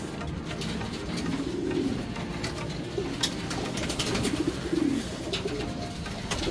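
Racing pigeons cooing nearby in low, rounded bursts, repeated a few times over a steady outdoor background.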